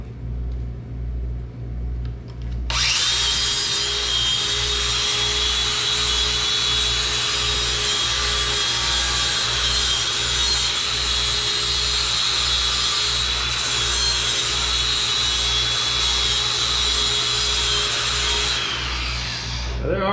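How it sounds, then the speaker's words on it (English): A hand grinder cleans up a 26-degree coped tube for a roll cage on a CJ2A Jeep project, starting after a short quiet lead-in and running loud and steady for about sixteen seconds before cutting off. "Clean it up with the grinder."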